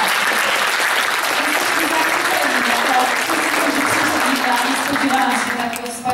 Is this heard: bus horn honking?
no